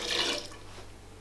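Diluted rennet water, about 60 milliliters, poured into milk while making halloumi cheese, giving a brief close splash and trickle that fades quickly.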